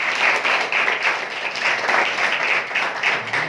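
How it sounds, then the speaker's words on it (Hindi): An audience at an institute's motivational programme bursts into sustained applause in honour of teachers, a dense, even wash of many hands clapping for about three seconds. "तो क्या टीचर्स के लिए, उनके सम्मान में आप ताली बजाना नहीं चाहते?"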